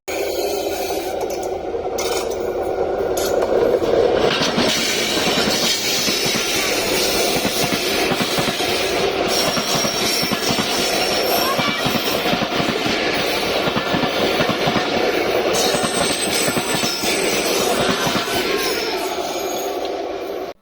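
A train rolls past close by over coins placed on the rails, a loud continuous rumble with metallic scraping and clattering wheels, steady throughout before easing slightly near the end.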